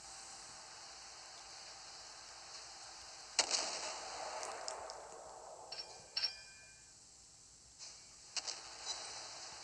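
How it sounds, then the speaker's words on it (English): A Mogami cruiser fires torpedoes in the naval game Naval Creed. A sharp launch burst is followed by a fading hiss and a few scattered clicks and thuds over steady background noise. "I launch torpedoes."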